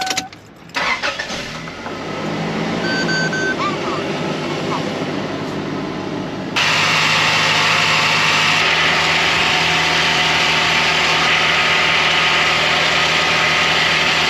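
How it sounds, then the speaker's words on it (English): A 1998 Toyota Land Cruiser Prado engine cranks and catches after an oil change, then settles into a steady idle, with a brief voice near the start. "Let's go turn her over and get the oil cycling through everything"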